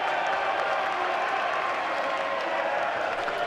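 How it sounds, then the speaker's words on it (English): A basketball crowd at Con, on its feet for the last home game of the season against North American University, roars and applauds in a dense, steady wall of cheering that holds loud and unbroken throughout. "The whole crowd at Con on their feet tonight."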